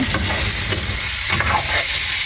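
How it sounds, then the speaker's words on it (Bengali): Two tomatoes sautéing with ginger and garlic in a hot pan, a loud continuous sizzle broken by a few scraping stirs. "টমেটো দুটা দেওয়ার পরে কিছুটা কষাই নেব"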